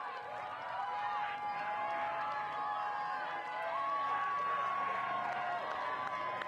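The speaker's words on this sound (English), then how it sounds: "loudness of the crowd" Spectators at a women's rugby final between Berkeley and Colorado make a steady, distant crowd murmur with faint cheering, running continuously beneath a commentator's voice and whistle-like tones.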